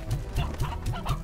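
Chickens cluck repeatedly in the video game Slime Rancher, a busy overlapping flock calling in quick bursts close by, with no talk over them.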